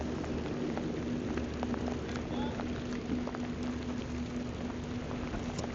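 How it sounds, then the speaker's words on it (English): Soft, steady patter of rain falling on a surface at a boat ramp in Mayport, Florida, quiet and continuous, with a low hum underneath. "I didn't think it was gonna be raining."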